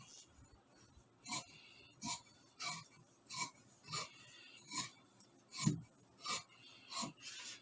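Pinned cotton fabric for a baby dress is cut with scissors: about ten distinct crisp snips at a steady pace, close and fairly quiet, with no talking.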